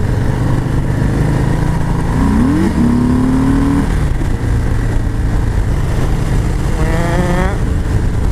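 2019 Harley-Davidson Sport Glide with a 107 engine on a demo ride, a steady, loud engine rumble with a couple of brief revs and pitch shifts amid wind noise.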